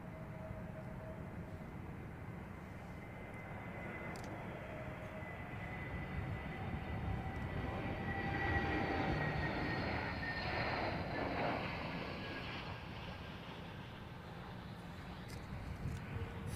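A Boeing Dreamliner jet at London Heathrow Airport passes at a distance, its broad rushing roar building toward the middle and then slowly easing off, faint and airy overall.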